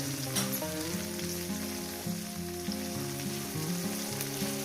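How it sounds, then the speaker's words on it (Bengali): Small river fish fry in hot oil with a continuous crackling sizzle, heard under a steady melodic music track. "তেলটা আমার গরম হয়ে গেছে মাছগুলো আমি হালকা করে ভেজে নেব মাছগুলো দিয়ে দিলাম"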